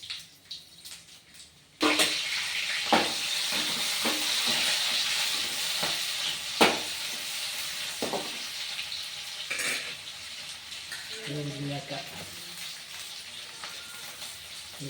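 Mustard seeds and cumin crackle and sizzle loudly in hot oil, a sudden steady fry starting after a quiet moment, with scattered pops and occasional clinks of a stirring utensil against the pan.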